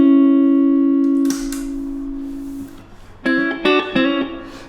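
An electric guitar plays clean through a Laney Lionheart Loudpedal with its boost engaged. One loud note rings out and fades, then a few bright chord strums follow after a short gap.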